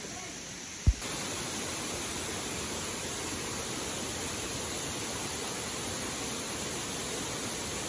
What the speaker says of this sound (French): À Skip, il faut pas se jeter dans la cascade, sinon on canne.